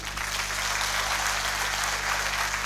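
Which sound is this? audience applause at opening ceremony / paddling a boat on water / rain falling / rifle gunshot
audience applause at opening ceremony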